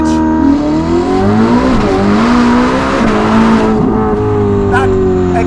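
A 1000hp Novitec-tuned Ferrari SF90 with an upgraded exhaust and power upgrade accelerates loudly on South African streets, its engine note climbing through gears with a brief tyre squeal, while a voice talks over it.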